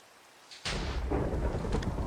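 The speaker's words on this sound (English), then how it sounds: "And that was a lightning strike." A lightning strike in the ATM 11 Minecraft modpack sets off a sudden loud thunder crack that rolls into a sustained rumble.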